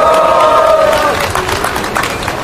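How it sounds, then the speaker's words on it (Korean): A crowd at an outdoor political rally against the Korea-US FTA applauds and cheers, a dense burst of clapping and voices that is loudest at first and then gradually thins out, with a voice over the start. "여러분들 힘찬 박수 부탁드리겠습니다."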